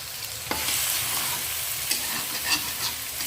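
Noodles stirred in a frying pan with steady sizzling and several scraping strokes of a utensil against the pan bottom, close and fairly loud, no one speaking.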